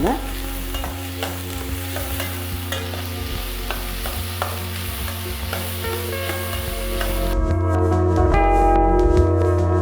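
Chopped capsicum frying in a pan for a Maggi bread roast gives a steady, close sizzle with stirring scrapes, running continuously beneath tonal background music that swells near the end.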